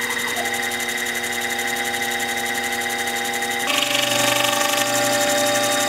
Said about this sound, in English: we're on the final pass. The teeth are taking their final form.